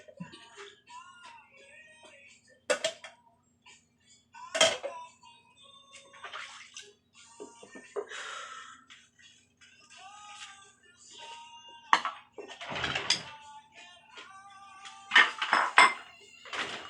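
Dishes being washed by hand, plates, pots and cutlery clinking and clattering in irregular bursts with running water splashes, close and moderately loud, with pauses between.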